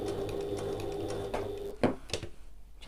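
A sewing machine stitches an evening bag flap with a fast, even mechanical whir for under two seconds, then stops into a few isolated clicks and taps.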